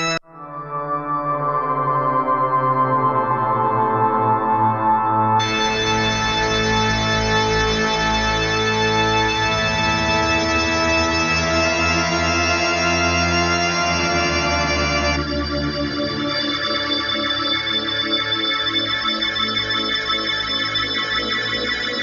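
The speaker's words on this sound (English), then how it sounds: "it's got this glissando feature, which when you put other notes on top, they'll gliss between" An electric guitar runs through a synth pedal with a glissando feature, so notes glide into one another. It makes a loud, dense, sustained synth-like wash over a low drone, changing texture partway through, with no talking.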